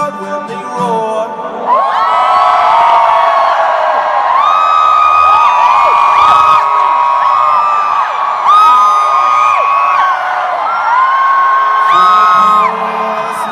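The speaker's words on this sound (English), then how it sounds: "Won't you listen to that crowd when they roar?" A large concert crowd roars, whoops and yells continuously, loud and close, with many high voices rising and falling in waves of cheering at a stadium show in Singapore.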